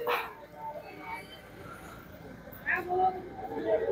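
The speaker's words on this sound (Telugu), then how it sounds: "కుక్కలే ఉన్నాయి మొత్తం" Dogs at a temple mandapam near a large Shiva lingam on Kotappakonda hill, with a few short yips and barks coming through over steady talking.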